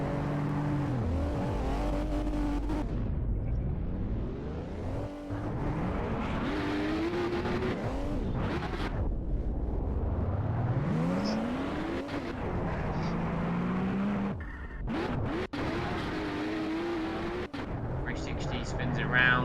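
Unlimited banger racing cars spin and hit head-on at Standlake Arena, engines roaring and revving loudly and continuously, with sharp crunching impacts and a commentator talking over the racket.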